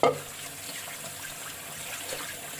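Duck meat being washed in cold water makes a soft, steady trickle and splash, like a running tap over a sink, close but fairly faint after a short knock at the start.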